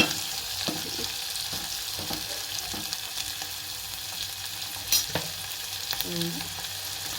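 Food frying in a pan at home, a steady close sizzle with occasional stirring clicks and scrapes, no talking.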